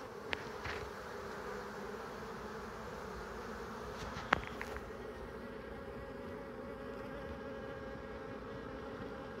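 A guard bee buzzing close by in a high, whiny, mosquito-like drone that holds steady throughout, with a couple of faint clicks and no voices.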